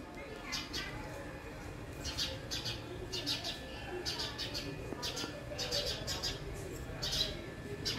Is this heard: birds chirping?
yes